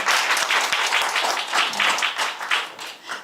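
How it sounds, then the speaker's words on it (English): Audience applause at a live event where Alex Honnold is welcomed on stage; dense, sustained clapping from a crowd fills the room steadily for a few seconds, then begins to thin out. "Yeah, you can clap for that."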